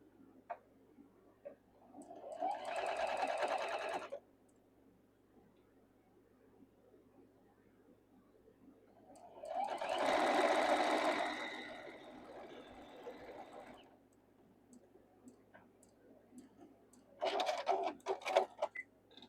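Three separate runs of a sewing machine stitching quilt block seams, each a steady motor whir lasting a couple of seconds, close and fairly loud, with quiet pauses and light ticks between them.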